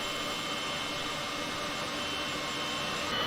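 The jet engine of a Heinkel He-162 in Microsoft Flight Simulator 2020, heard up close, gives a steady, loud, broadband roar and hiss that stays constant throughout with no talk over it.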